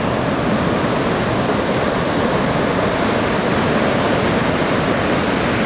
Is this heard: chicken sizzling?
no